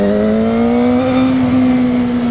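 The single-cylinder engine of a 2025 Kove 450RR sport motorcycle revving, a loud, close, steady high-pitched drone whose pitch creeps gradually upward with no talk over it.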